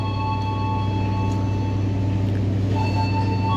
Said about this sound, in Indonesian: Nah, ini kereta api Bogowonto keberangkatan awal Lempuyangan tujuan Jakarta Pasar Senen diberangkatkan dari stasiun Cirebon Perujakan.